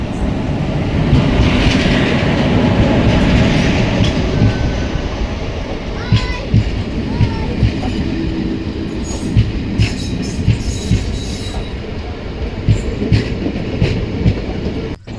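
A Sambhaji Nagar–Guntur Express rumbles close by as it rolls into Veldurthi station, wheels squealing and clattering on the rails, with the loud, steady roar continuing throughout.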